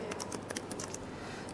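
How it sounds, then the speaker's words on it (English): Typing on the keyboard of a budget convertible dual-display laptop: quick, light key clicks in an irregular run, close but quiet, with no talking. "And here you're typing"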